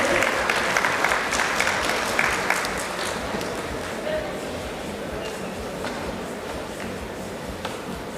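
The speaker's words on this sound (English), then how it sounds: "Can we please have some huge round of applause for the panelists?" Audience applause for panelists at a national summit and awards event rings out loudly at first, then gradually thins and fades, with talking heard over it.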